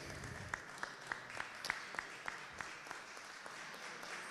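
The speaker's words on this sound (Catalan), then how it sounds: "Un fort aplaudiment per a ells." An audience at a 70th-anniversary ceremony of a Levante football supporters' club claps in sustained, moderately loud applause, with individual sharp claps standing out from the crowd.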